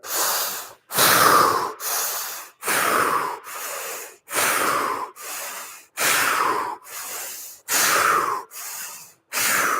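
Deep breaths during a breathing exercise, roughly ten or eleven loud, close inhales and exhales in a steady rhythm, each a rushing, airy burst separated by short pauses, with no talking.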